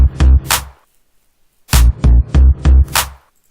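Gritty electronic bass stabs layered with a bright snappy clap in an FL Studio beat, loud and upfront; a short pattern, a pause, then four bass hits with claps landing on top.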